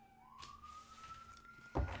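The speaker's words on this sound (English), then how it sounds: "We have sirens out there." A siren wails outside, one rising tone that holds steady and sounds faint and distant, with a sharper thump near the end.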